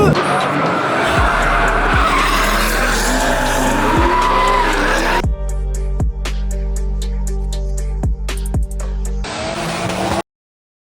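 Car doing a third-gear burnout, tires skidding and squealing with a loud engine roar, then a second section of harsh, stuttering engine and tire noise, up close.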